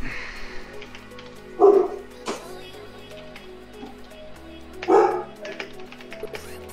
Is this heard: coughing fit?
no